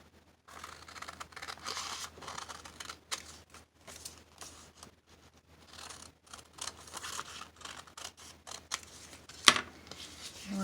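Scissors cutting paper for a junk journal, a series of quiet crisp snips and rustles close by, with no talking.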